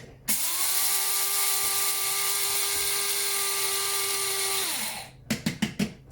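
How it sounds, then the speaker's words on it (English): An electric spice grinder whizzes cumin seeds with a loud, steady high-pitched whine for about five seconds, then stops, followed by a few quick knocks and taps. "So I'm going to put a dessert spoon, just because, you know, I like it, but personal taste, in my grinder and whiz it up."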